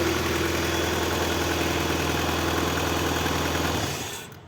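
Car engine idling steadily after a quick start, a continuous close rumble with even low vibration, holding level before cutting out near the end.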